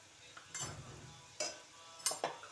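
Spices including turmeric and chili powder sautéed with chopped onion in a pan, a few soft stirring scrapes and brief bursts of sizzle, close and faint with no talk.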